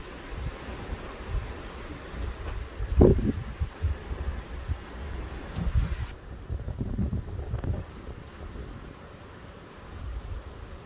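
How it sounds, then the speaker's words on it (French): Strong wind gusts from storm Larisa in Mérignac roar in steady low rumbling buffets. A heavier gust swells around the third second, and the blustery noise continues throughout with no speech. "Là, les rafales, elles ont jamais été aussi puissantes."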